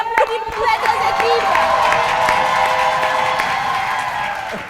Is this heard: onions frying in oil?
no